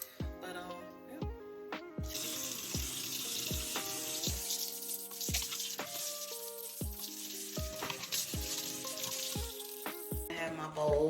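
Tap water runs steadily into a kitchen sink while a deviled egg dish is washed underneath, a continuous rushing stream with clinks and knocks of dishware and a faint background tune.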